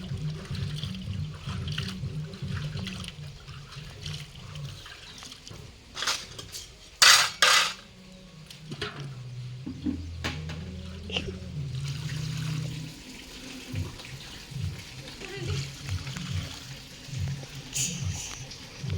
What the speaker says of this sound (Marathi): आता भांडी बघा ही कशी घासते